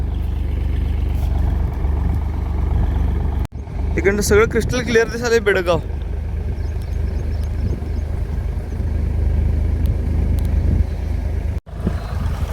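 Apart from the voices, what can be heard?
tractor engine running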